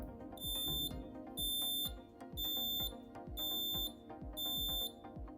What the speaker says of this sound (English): 5 beeps when the door is requested to close is a safety edge fault